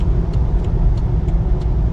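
A BMW X3 35i M Sport on a highway at quarter throttle gives a steady low engine and road rumble from inside the cabin, continuous and fairly loud, with no voices.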